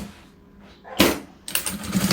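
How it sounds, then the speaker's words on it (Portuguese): A sewing machine stitching a seam on old jeans for a pot holder. A short motor burst is followed by a pause, then the machine runs steadily again, close and fairly loud. "E vamos fazer uma costura aqui,"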